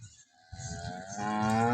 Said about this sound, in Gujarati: બીજી પણ ગાયો આપણી પાસે ઊભી છે દસથી બાર ગાયો છે